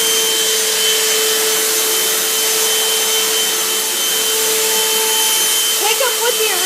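A Eureka vacuum cleaner runs during a pickup test, a loud, constant high whirring drone with a steady tone throughout and a slight rattle near the end.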